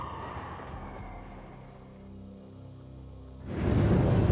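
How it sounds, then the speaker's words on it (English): Wailing sirens echo through a city in the Max Payne video game, a sustained rising and falling tone at moderate distance, swelling into a louder, denser roar of noise near the end. "And somewhere in the background, the wail of sirens, the city howling after me."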